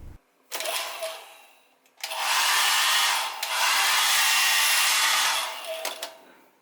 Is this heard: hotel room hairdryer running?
yes